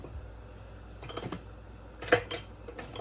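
Cutlery rattling in a kitchen drawer while a spoon is hunted for during rice cooking, quiet metallic clinks and clatters in two short bursts over a low background hum, no talking.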